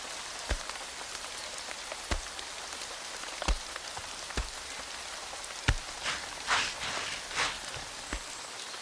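Steady rain falls on a surface around a house, a continuous wash of patter with sharper drips landing at irregular intervals, no voices present.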